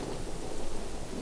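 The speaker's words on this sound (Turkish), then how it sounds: "Dışarıda fırtına var." Thunderstorm raging outside in the horror game Outlast, steady dense rain with a low rumble of thunder running through the whole stretch, no voices over it.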